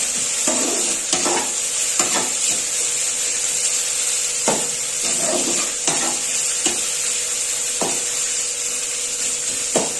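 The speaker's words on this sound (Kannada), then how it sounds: "ಫಸ್ಟ್ ಈರುಳ್ಳಿನ ಚೆನ್ನಾಗಿ ಫ್ರೈ ಮಾಡ್ಕೊಬೇಕು" Onions frying in a pan for a village-style vegetarian breakfast, a steady bright sizzle running throughout with periodic scraping and stirring knocks from a utensil, close and continuous.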